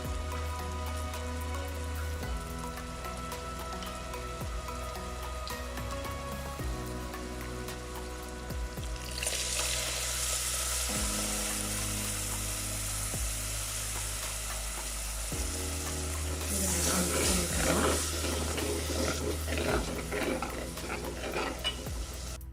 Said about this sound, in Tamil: இந்த டைமில் நான் எலுமிச்சை சைஸு புளியை ஊற வச்சு இதை கரைச்சி ஊற்றுறேன்